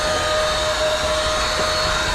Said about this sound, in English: vacuum up any little loose ends, messes.